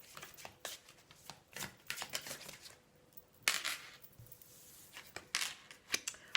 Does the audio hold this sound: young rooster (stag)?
no